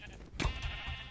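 A single short sheep bleat from the Minecraft video game, close and moderately loud, over a faint background hum.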